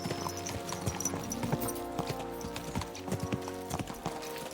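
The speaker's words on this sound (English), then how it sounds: "Let's really spur these horses on, eh?" Horses galloping in Kingdom Come: Deliverance II, a quick steady clip-clop of hooves pounding on and on, with a brief whinny over a low game soundscape.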